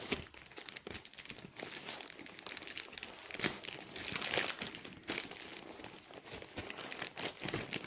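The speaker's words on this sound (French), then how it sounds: "Donc on va ouvrir le papier de couches." Diaper packaging being torn open and handled while making a diaper cake, close crinkling and rustling plastic in irregular bursts, no talking.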